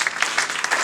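Congregation clapping in acclamation of Jesus during a French-language church service, a brief dense burst of many hands at steady volume.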